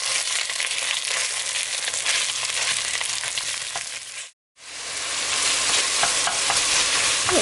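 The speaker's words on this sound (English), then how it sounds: "we're gonna go right in with our Italian sausage. And we're just gonna take a fork and break this up." Italian sausage sizzles loudly and steadily in a hot pan while a fork stirs and breaks it apart, with a brief sharp dropout midway before the frying resumes.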